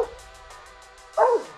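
A dog gives a single short, sharp bark near the end, fairly close, after a stretch of quiet background.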